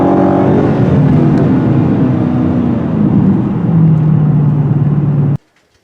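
A 707-horsepower 2017 Dodge SRT Hellcat accelerating hard, its supercharged engine a loud, close, continuous roar that climbs in pitch through the gears, then cuts off abruptly near the end.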